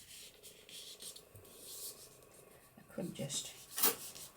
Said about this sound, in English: I'm just burnishing my creases.